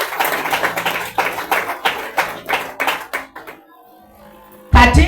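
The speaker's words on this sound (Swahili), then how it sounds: "Pigia watumishi wa Mungu makofi." A church congregation claps for the servants of God in a burst of rhythmic applause that thins out, goes quiet, then picks up again loudly at the end.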